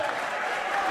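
A football crowd at an Ayr United versus Queens Park match applauds a former player in one brief, steady burst of dense clapping that fills the stadium.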